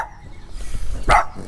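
A tiny dog gives one short, sharp bark near the end. A low rumble and some faint sounds come before it.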